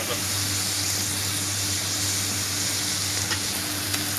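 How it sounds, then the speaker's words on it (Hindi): Noodles hitting a pan of frying vegetables for chicken chow mein set off a loud, continuous sizzle and hiss that stays even throughout, with faint stirring clicks. "अब इसमें हम ऐड करेंगे नूडल"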